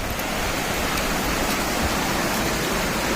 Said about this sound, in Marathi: ऊसातून सांडव्यातून पाणी वाहत आहे